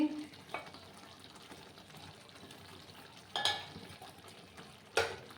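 Spoon stirring kankrol (spiny gourd) curry with crushed kasuri methi in a pan, faint soft scraping over a low sizzle, with a few sharp clinks of utensil against the pan.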